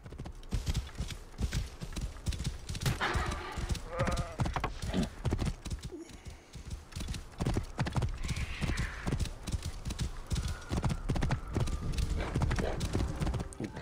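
Hooves of a horse galloping in the video game Assassin's Creed Origins, a loud rapid clip-clop rhythm running steadily throughout with occasional whinny-like sounds and a voice speaking over it.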